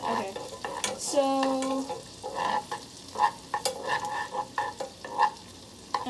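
Butter and ginger sizzle in a pan on the stove, a steady close hiss broken by repeated scraping strokes of a spoon stirring, with a brief tonal squeak and a spoken word.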